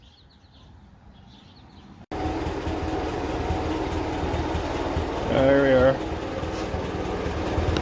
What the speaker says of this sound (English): Headlights are headlighting. Tractor's running.